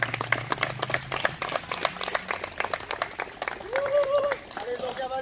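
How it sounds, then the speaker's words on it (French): Wedding guests at a church ceremony clap in a quick, uneven patter while a voice speaks over them and a brief sung or cheering tone rises near the end. "Est-ce qu'on peut l'encourager par les acclamations?"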